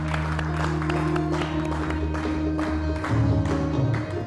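Audience applause greets guests walking onto the stage at a televised Eid show, a steady spread of clapping from a crowd holding for several seconds beneath a sustained musical tone.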